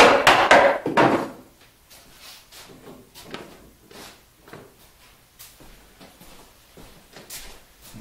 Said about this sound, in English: I'm dry fitting everything together. I'm going to clamp it.